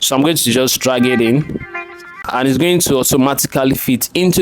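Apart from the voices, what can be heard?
No everyday noise stands out behind the speech.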